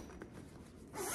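A zipper runs along the pocket of a faux leather front car seat cover, a quiet, close, ratcheting zip lasting about a second and brightening as it finishes.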